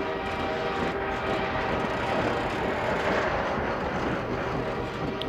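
A train rumbles past steadily in the video game Half-Life 2, a continuous mechanical roar with a faint horn-like tone, moderately loud and without talk.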